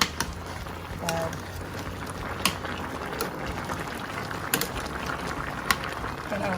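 Chicken and pork adobo simmering in a pot, with a soft bubbling hiss and occasional sharp clinks as it is stirred, and faint voices present in the background.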